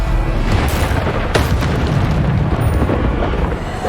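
Bombarda spell explosion in the Hogwarts Legacy video game, a loud, dense booming blast that fills the whole moment with heavy rumble and a sharp burst near the middle, alone without speech.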